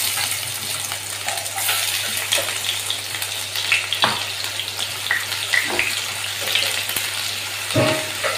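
Onions fry in hot oil in a pan, a continuous close, loud sizzle with crackling and occasional scraping clicks of a spatula throughout.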